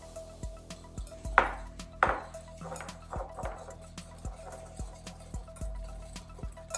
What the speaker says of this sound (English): How long are we supposed to whisk this thing for?